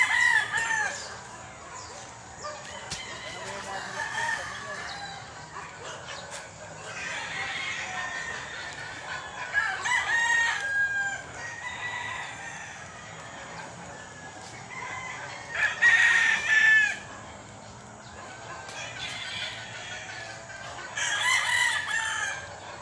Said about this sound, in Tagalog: dami hong manok